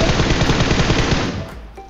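Loud, close automatic gunfire in PUBG Mobile, a fast rhythmic burst of rounds for over a second before fading into quieter game ambience.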